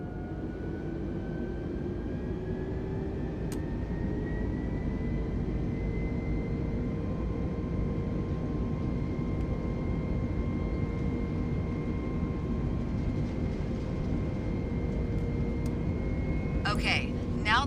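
Airliner engines spooling up for takeoff in Microsoft Flight Simulator 2020, a steady broad roar with rising whining tones building gradually, a short burst of clicks near the end.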